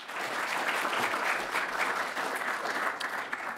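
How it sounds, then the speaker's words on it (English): Applause from the audience at the Pershing Square Challenge event: a sustained wash of many hands clapping together, even and moderately distant, filling the whole stretch without pause. "So please join me in a round of applause to the full team that makes this event"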